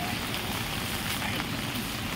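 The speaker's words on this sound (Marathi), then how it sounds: "बघा एवढं पाऊस आहे." Heavy monsoon rain pours over a garden near a house, a dense and steady close-up hiss that holds at an even level from start to finish with no clear break.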